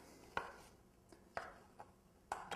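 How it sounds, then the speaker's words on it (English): Knife chopping microwaved red potatoes coarsely on a cutting board: three distinct sharp chops with softer taps between, close and fairly quiet, no talking. "just give them a quick coarse chop with a knife"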